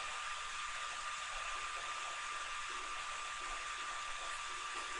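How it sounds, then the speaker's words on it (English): A computer fan runs with a steady, even broadband whoosh that holds constant throughout, with no voices over it. "There is my fan again."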